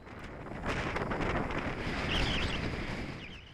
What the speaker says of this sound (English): The wind is a little bit off to the right here